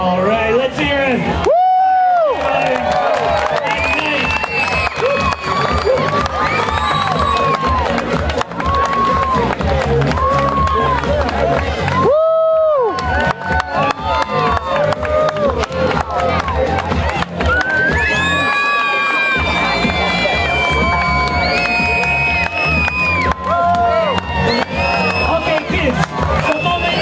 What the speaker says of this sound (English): Parents, stop clapping.